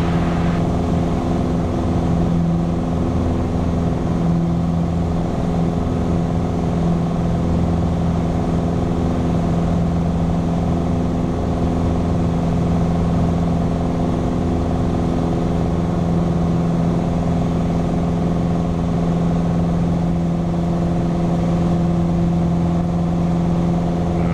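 Normally aspirated light aircraft engine at full power during a heavy climb, a loud, steady, unbroken drone from start to finish.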